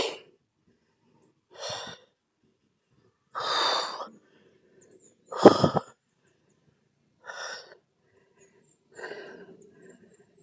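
Heavy, ragged panting after a steep uphill climb on a hot day, six separate loud breaths spaced a second or two apart with silence between, close to the microphone.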